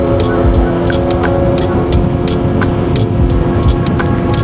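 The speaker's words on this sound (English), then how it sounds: "You hear them downshifts? Them pops." A motorcycle downshifting on the road, with sharp exhaust pops crackling repeatedly over a loud, continuous engine and wind roar.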